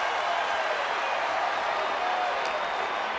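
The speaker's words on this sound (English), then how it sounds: "And Carl Anderson is getting the crowd going" Arena crowd cheering in the WWE 2K24 wrestling video game during a Money in the Bank match, a steady dense roar of noise throughout, with no clear talk over it.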